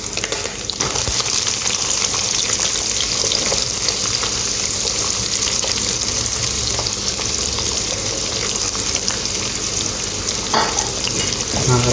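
Onions, curry leaves and chilies sautéing in a pan for spinach curry, a continuous close crackling sizzle with occasional stirring scrapes throughout, no voices.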